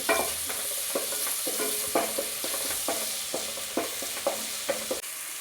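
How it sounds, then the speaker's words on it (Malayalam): Onions sautéing with a pinch of salt are stirred in a pan, a spoon scraping in a quick, even rhythm of about two strokes per second over a soft, steady sizzle, close and quiet with no talk. "ലേശം ഉപ്പ് ഇട്ടിട്ട് ഒന്ന് ഇളക്കി കൊടുക്കാം."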